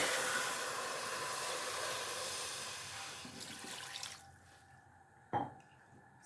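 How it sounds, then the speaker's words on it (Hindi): Water pours steadily into a cooking pot holding 2 kg of beef for a beef karahi, a hissing rush that stops partway through and leaves a quiet room with one small clunk. "इसमें अभी हम डालेंगे 2 गिलास पानी के।"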